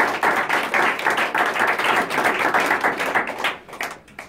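A church congregation applauding, with dense rhythmic clapping held steady and loud for several seconds before thinning out toward the end.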